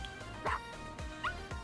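Short yips and barks from a puppy in the Dragalia Lost game, three or four quick calls spaced across the moment over a steady game-music bed.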